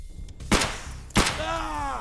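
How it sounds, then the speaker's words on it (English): Two sharp .366 rifle shots fired at a low-budget armored vest rig in Escape From Tarkov, about half a second apart, loud and close, each followed by a brief ringing tail. "You see 2 shots to bring it down"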